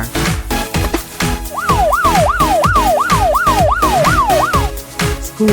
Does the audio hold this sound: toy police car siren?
yes